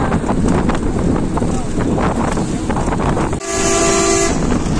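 A train passes at Shahid M Mansur Ali railway station in northern Bangladesh, a loud continuous rumble with wind noise, ending in a brief bright horn-like tone, while a voice talks over it.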